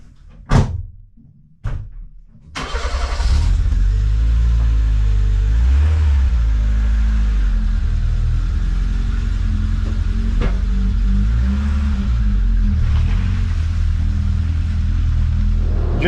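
A Peugeot 106 Rallye with freshly fixed brakes: two sharp car-door thuds, then the engine catches and settles into a loud, steady rumbling idle and drive that continues without a break to the end.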